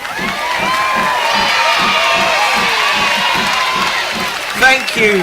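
A crowd at a heritage railway cheers and shouts excitedly for a slowly moving steam train with some wheel slip, a steady roar of voices with a rhythmic low chuffing underneath and a few whoops near the end.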